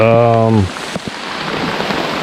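Rain falling on a campsite at Split Rock State Park on the North Shore of Lake Superior, a steady broadband patter that continues after a brief opening tone, with occasional louder drops close by.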